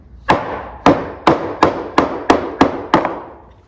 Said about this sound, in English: I simply tap on this, and that breaks loose the shim.